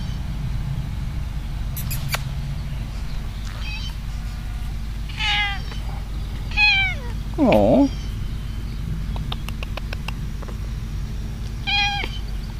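An old cat in a backyard garden gives a series of meows and short chirps scattered over several seconds, fairly close, with a person's soft voice briefly heard.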